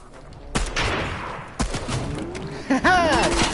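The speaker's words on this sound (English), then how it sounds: "Somebody with a sniper." Sniper rifle gunfire rings out in a Fortnite match, several sharp broadband shots with ringing tails at spaced intervals, followed by whistling, swooping game effects near the end.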